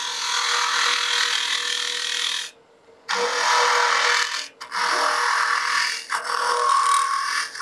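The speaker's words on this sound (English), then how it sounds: "I get this annoying sound. That is the gouge letting me know it's being abused and it doesn't like what we're doing here." A wood gouge cuts into a spinning wooden egg on a lathe as the opening is hollowed deeper and wider, giving a loud, harsh scraping rasp in long runs broken by two brief pauses.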